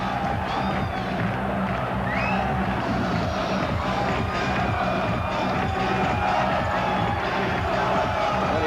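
A standing crowd at a boxing world title fight, Naseem Hamed against Steve Robinson, keeps up a loud, continuous roar of cheering and shouting with scattered whoops throughout.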